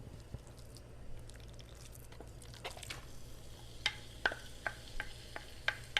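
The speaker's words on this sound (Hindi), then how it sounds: "गरम हो जाए तो इसमें आपने ये ग्राउंड चिकन डाल देना है" Ground chicken breast goes into hot cooking oil in a pan, producing a quiet, steady sizzle under soft stirring and scraping with a few sharper clicks.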